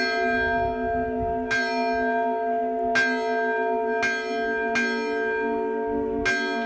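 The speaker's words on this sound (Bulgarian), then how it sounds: "Вече 20 години баба Мария поддържа камбанния звън на черквите Свети Георги и Свети Никола." Church bells of the Saint George and Saint Nicholas village churches ring in a steady peal, with sharp strikes about every second and a half over a sustained, humming resonance; no voices.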